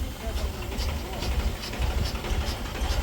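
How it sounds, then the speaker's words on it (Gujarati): A tractor engine idling slowly at about 500 RPM while driving a 500-litre pressure sprayer pump, a low, steady chugging rumble heard close, with a person talking over it. "એકદમ સ્લો 500 RPMમાં ટ્રેક્ટર ચાલે છે"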